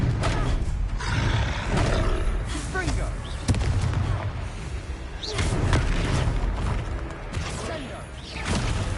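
A troll roars in Hogwarts Legacy amid a chaotic fight, with heavy booming impacts and spell blasts layered under a loud, rumbling growl that persists throughout.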